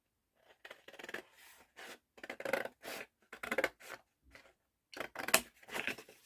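Scissors snip through paper while building a scrapbooking craft house and its roof, in short separate bursts of quiet cutting with brief pauses between strokes.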